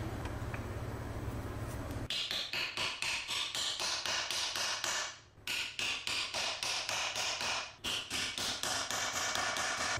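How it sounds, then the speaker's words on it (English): Caps are hammered into the sleeve bushings of a car transmission, a rapid run of sharp, close metallic taps in steady bursts with two brief pauses. "these caps apparently get hammered in until they hit that sleeve or that bushing"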